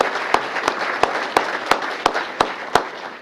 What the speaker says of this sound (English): let's have a round of applause for anyone that's an administrative support person